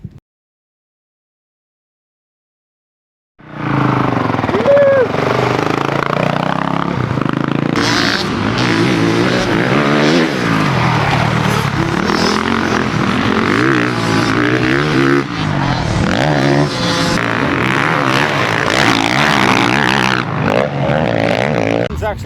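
A stock 2021 Honda CRF450RX dirt bike rides laps at Glen Helen, its engine loud and close after a brief silence, revving and rising and falling continuously as it accelerates through the track.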